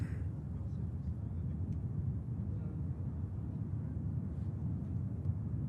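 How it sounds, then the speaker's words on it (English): KLM airliner from Amsterdam Schiphol on final approach to touchdown at Manchester Airport, a steady low broadband jet roar holding level throughout, moderately distant. "Close in from Amsterdam, Schiphol. Hey, Matifar. Beautiful blue KLM next to touchdown."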